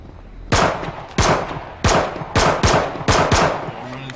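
Loud, close gunfire rings out in a shooter video game, with six or seven sharp blasts in quick succession, some in doubled bursts, each trailing off briefly before the next shot.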